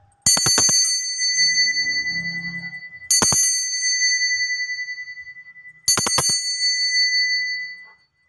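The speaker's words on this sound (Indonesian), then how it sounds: "kita akan memulai dengan lonceng berbunyi" A bright bicycle-style bell rings three times, each ding sharp and ringing out for a few seconds before the next, loud and close with nothing else around.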